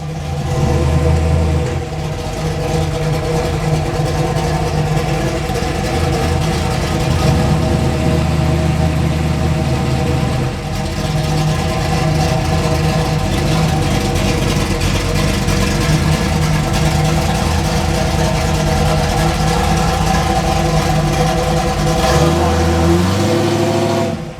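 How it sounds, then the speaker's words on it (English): A 400-horsepower classic car race engine idles steadily and loudly with a deep, lumpy rumble, holding a constant throb throughout before dipping slightly at the end. "This has 400 horsepower because it has a race engine, special engine."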